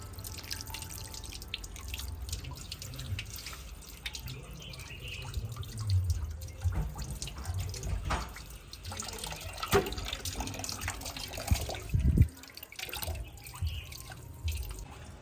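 Tap water splashes and drips steadily over fish being washed for fish curry, with irregular splashing and handling noises and a louder burst of water near the end.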